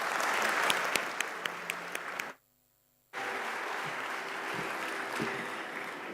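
Conference audience applauding a panel, a dense steady wash of many hands clapping that cuts off abruptly into a brief silence before the clapping resumes just as full.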